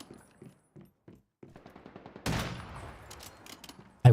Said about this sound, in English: Stop wrecking me with the AK, will you?